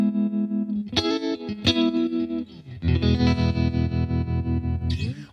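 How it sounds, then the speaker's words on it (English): A guitar played through a Universal Audio pedal emulating a '65 Deluxe Reverb amp, its tone pulsing with a steady vibrato/tremolo throb across loud, sustained chords and a few sharp strums. "You do get the vibrato or tremolo that you would get on a real 65 Deluxe Reverb amp."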